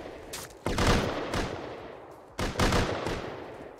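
Rapid automatic gunfire in the video game Rust rattles loudly in two close bursts, each a dense stream of shots fading into a lingering tail.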